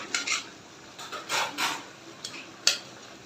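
Brinjals being stirred in a pan with the lid off make a few scraping, rubbing strokes and brief clinks of a utensil against metal, separated by a quiet low sizzle.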